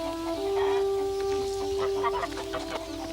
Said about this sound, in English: It was a cockerel.